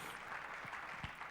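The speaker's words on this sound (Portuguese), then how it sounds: "Vamos aplaudir o Chris" An audience in a church service applauds for the speaker Chris, a steady wash of faint, distant clapping with no voices over it.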